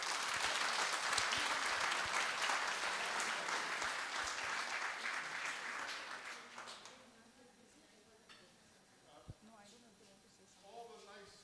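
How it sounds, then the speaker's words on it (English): Applause from participants at the close of a two-day workshop in Hyderabad, a sustained dense round of clapping from a room full of people that fades out after about seven seconds, followed by speech. "I request all the participants to give a huge round of applause."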